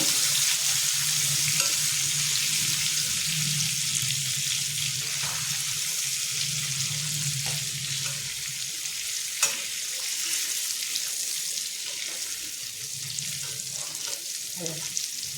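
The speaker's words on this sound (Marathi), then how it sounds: "आता आपण मासे परतूया" Fish sizzling as it is sautéed in a pan for Malvani pedve saar, a steady close frying hiss with occasional stirring scrapes and clinks throughout.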